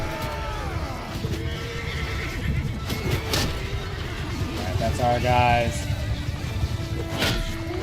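Horses neigh and whinny several times amid clip-clopping hooves and battle noise in the game Mount & Blade, set in Calradia, while someone talks over the action.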